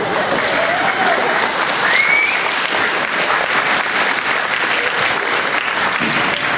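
Loud, sustained applause fills a hall as a graduation audience claps steadily throughout, with scattered cheers and voices mixed in.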